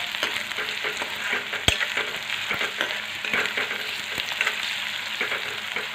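Tomatoes fry in hot oil for a chickpea usal, giving a steady close sizzle with occasional sharp clacks from stirring, and no talk.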